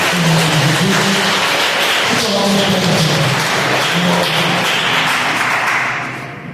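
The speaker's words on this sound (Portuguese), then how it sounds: "Você pode dar um aplauso ao nosso Deus nessa noite?" A church congregation applauds, a continuous broad wash of clapping that holds steady and fades near the end, with a voice and music carrying underneath.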